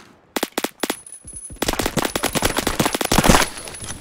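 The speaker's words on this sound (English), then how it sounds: "I hear a lot of gunshots." Gunfire in a Roblox shooter, a few separate loud shots followed by rapid automatic bursts close by, sharp repeated cracks with no talk.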